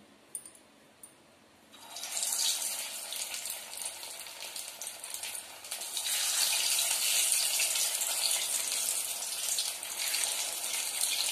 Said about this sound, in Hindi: तेल भी जो है गरम हो चुका है इसको हम स्लो फ्लेम पे कर देंगे और इसमें हम पकौड़िया डालना शुरू करेंगे